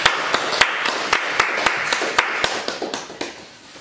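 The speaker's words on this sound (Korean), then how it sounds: "영광의 박수를 올려드리겠습니다." A church congregation claps in a steady rhythm during a Korean worship service, about a dozen sharp, evenly spaced claps close by that slightly speed up and fade at the end.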